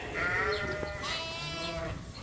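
Several sheep bleat loudly at feeding time on a farm, overlapping wavering calls close by with no talk.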